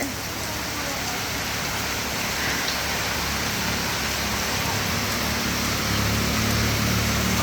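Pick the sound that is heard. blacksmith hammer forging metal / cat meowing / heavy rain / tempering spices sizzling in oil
heavy rain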